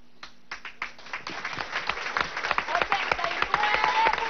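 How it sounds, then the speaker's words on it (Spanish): Applause from a crowd, starting with a few scattered claps and quickly building into dense, steady clapping that grows louder toward the end. "Desde aquí un aplauso a todos ustedes"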